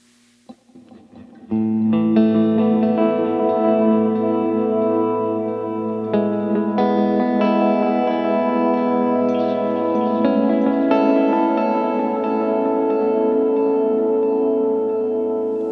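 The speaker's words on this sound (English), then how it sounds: "So this is what it sounds like with the delay and the reverb on." Ambient electric guitar through a pedalboard: notes ring out and stack up, drenched in echoing delay and reverb, sustained chords blurring into a thick, droning wash.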